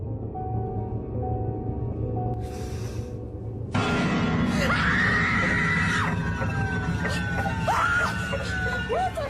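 A cameraman exploring an abandoned house screams in fright and flees: a burst of noisy rustle, then a sudden loud, sustained shrill scream with wavering pitch, followed by further cries over background noise.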